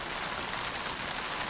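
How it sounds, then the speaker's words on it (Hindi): Heavy rain falls in Mumbai as a dense, even hiss of drops across surfaces, loud and continuous with no pauses or voices. "झमाझम बारिश हो रही है"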